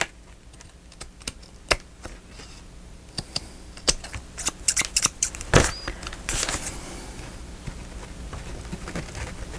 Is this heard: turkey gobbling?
no